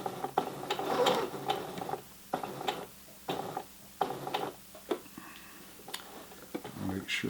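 Sewing machine stitching a fabric hot pad at a 2.5 mm stitch length, quiet bursts of rapid mechanical ticking with short pauses between runs, heard close up.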